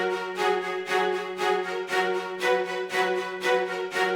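Staccato synth strings with harder-accented upstrokes, bright short chords pulsing in a steady alternating strong-weak rhythm of about eight pairs, over a held low tone, alone without talk.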